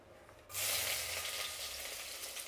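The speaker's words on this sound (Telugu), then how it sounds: "ఇప్పుడు ఫస్ట్ తెల్లగడ్డ వేసుకుందాం" Garlic hits a hot pan for gobi manchurian, bursting into a sudden bright sizzle after a brief quiet moment, then hissing steadily and close by with no talking.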